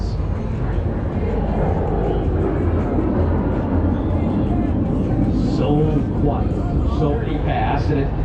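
A Marchetti aerobatic airplane flying past at a beachside airshow, a loud, continuous, rough engine roar filling the scene, with crowd noise and a commentator's voice underneath.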